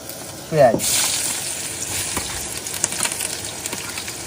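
A brief voice, then a sharp burst of sizzling as onion, green chili, garlic and ginger hit hot oil in a wok, settling into steady crackling frying.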